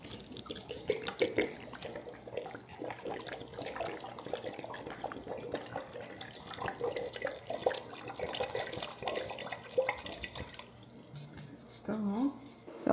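Vinegar is poured into a pot for a pickling brine for Brussels sprouts, a continuous liquid splash and trickle running under steady talking.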